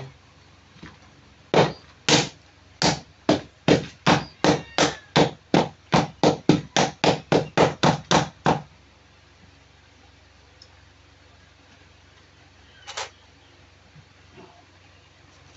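A hard piggy bank is struck with a hammer in a rapid burst of about twenty sharp, loud blows, followed by silence and one last isolated knock; no talk over it.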